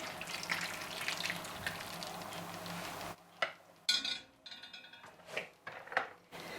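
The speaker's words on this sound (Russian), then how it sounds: "Заливаем сверху маринад горячий." Hot marinade poured over peppers in a kitchen: a continuous hissing sizzle and pouring rush, then abrupt clinks and scrapes of utensils and dishes, close up.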